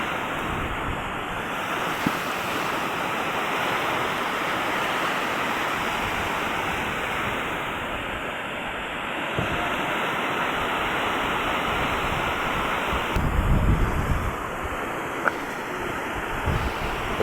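Big typhoon-driven waves crash and churn in a steady, loud roar, blended with heavy wind buffeting the microphone, with a stronger surge near the end.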